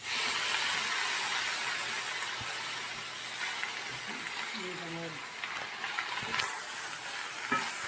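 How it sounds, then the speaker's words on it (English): Swiss chard and garlic cook in a pan with a soft, steady sizzle that fades after the greens go in, followed by scattered stirring clatters and a voice talking over it. "We're going to take the chard and I'm going to add this to the pan."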